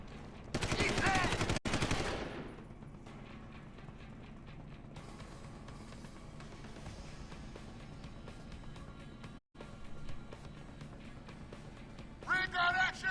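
Ray gun fire in the video game Deus Ex: Human Revolution, a loud burst of rapid shots at the start, then quieter game ambience with a short return of shots near the end, while voices talk.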